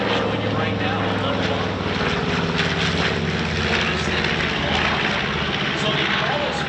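A B-25J Mitchell bomber drones overhead at the Atlanta air show, its radial piston engines giving a loud, continuous throbbing roar while an announcer speaks over the public address.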